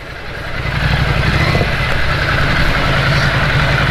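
A Ducati Scrambler motorcycle idles at a bike market in Karol Bagh, Delhi, its engine settling into a steady, loud low rumble that holds constant and close for several seconds, with no talking.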